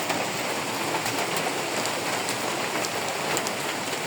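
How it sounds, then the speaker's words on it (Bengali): Heavy rain pours down steadily at a rural home beside a mango tree, a loud, dense, unbroken hiss of drops hitting surfaces, with no voices. "এখানে কেমন বৃষ্টি হচ্ছে দেখেন"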